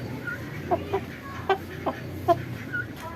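A chicken clucks softly in a steady series of short, spaced calls against a low background hum.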